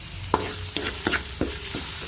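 Shrimp cooks in a hot pan with fragrant garlic under a steady sizzle, while a spatula stirs and scrapes the pan in several distinct strokes, close and clear, with no voices.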